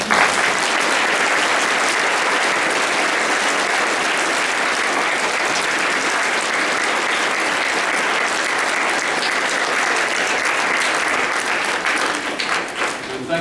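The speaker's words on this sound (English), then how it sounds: "We can applaud now" Sustained applause fills a Remembrance Day service hall, a steady dense wash of many hands clapping at even loudness, tapering slightly near the end.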